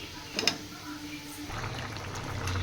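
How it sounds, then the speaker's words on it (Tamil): Low, steady bubbling and simmering of crab gravy in a covered pot, quiet and continuous, with a few faint clinks near the start. "இதை மூடி போட்டு விடுவோம் கொதிக்கிட்டோம்."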